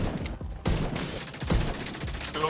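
Rapid gunfire in The Division 2 video game, a dense run of loud repeated shots and impacts in close succession, steady and intense throughout.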